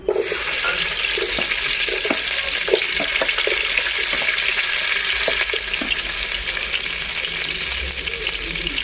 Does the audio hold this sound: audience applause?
no